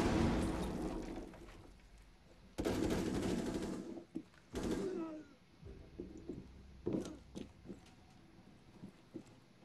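Enemy gunfire in Rainbow Six Siege: rapid automatic bursts, two louder stretches followed by scattered shorter shots, all fairly faint and distant.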